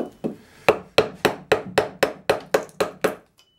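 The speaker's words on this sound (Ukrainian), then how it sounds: "І зараз буду з тої сторони різати." Wood being cut with a hand tool, worked from the other side: about a dozen sharp, close rhythmic strokes, each a hard percussive hit, evenly spaced about a quarter second apart, with no talk.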